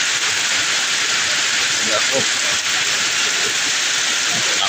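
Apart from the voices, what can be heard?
heavy rain falling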